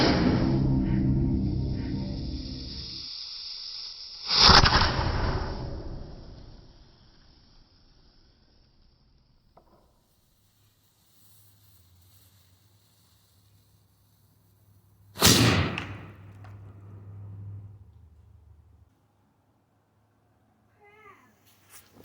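Homemade mini cannon firing blank capfuls, two sharp loud bangs about ten seconds apart, each with a short ringing tail, set against quiet pauses and faint background noise.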